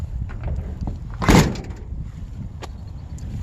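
A Chevy van's sliding door shuts with a single solid thud midway through, against a steady low rumble in the background.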